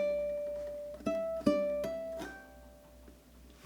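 Ukulele plays a short etude melody with slides between notes, a few plucked tones that glide upward, close and clear, alone with no talking.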